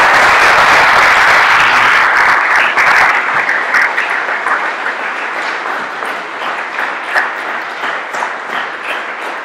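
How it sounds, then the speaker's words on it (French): Loud, dense applause from a conference audience at the close of a talk, starting as a full burst and thinning gradually into scattered claps over several seconds. "Alors, d'abord, on va entendre les applaudissements."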